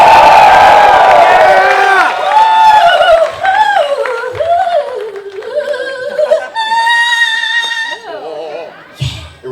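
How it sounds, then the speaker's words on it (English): A large convention audience cheers and whoops loudly at a Power Rangers Zeo reunion panel, with shrill shouts and chatter swelling and fading over the whole stretch, then dropping away near the end. "can I get like a big cheer for my friend Nakia Burrise?"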